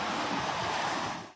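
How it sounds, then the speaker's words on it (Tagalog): Big sea waves surge and crash out in open water, a loud, continuous roar of surf that fills the whole moment before cutting off abruptly. "Gawa ng talagang napagkalalaki ng alon sa laot."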